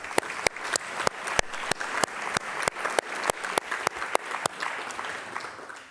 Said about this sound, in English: So we can first applaud.